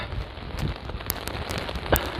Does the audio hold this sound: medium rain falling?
yes